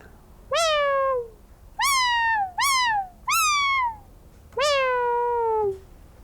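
A Cat SRM synthesizer patch imitating a cat's meow gives five separate tonal meows, each a bright harmonic cry with a falling pitch glide. They sound close and clear, with short silences between them and no talking.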